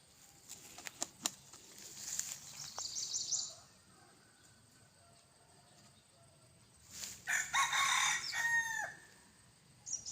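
Bantam chickens crow at a rural breeding farm, one crow early and a second louder, longer crow later, with faint clucks and rustling in between and quiet stretches, moderately distant.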